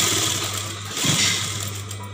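A sewing machine runs briefly, stitching a strip onto a saree petticoat, a steady close whirring hum with a faint rhythmic mechanical rattle.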